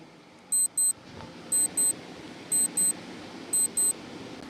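A quiz countdown timer gives sharp high double beeps, one pair about every second, four pairs in all, over a low steady background hiss.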